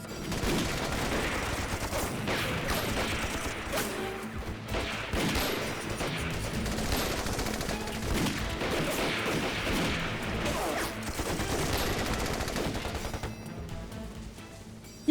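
Japanese machine gun fire mixed with other gunfire in an anti-Japanese war action film, a loud, dense and continuous stream of rapid bursts and shots that lasts throughout.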